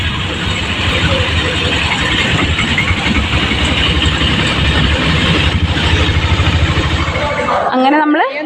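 A train engine idles at Ernakulam South railway station, giving a loud, steady low rumble throughout, with busy platform noise around it and a sharp burst of other sound right at the end.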